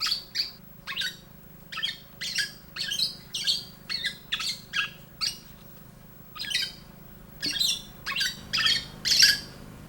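An oriole gives a rapid series of harsh, nasal non-breeding-season squawks, about a dozen calls in an uneven rhythm, fairly close and clear over quiet background.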